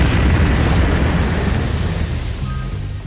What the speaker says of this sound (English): when you run into any of these dudes, you will explode